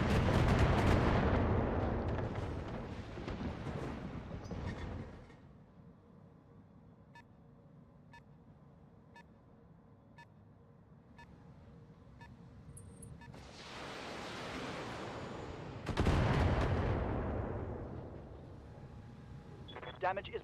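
Heavy mech weapons fire in the Battletech game, with dense booming salvos for several seconds, a quieter stretch with faint beeps, then another loud sustained barrage, close and powerful.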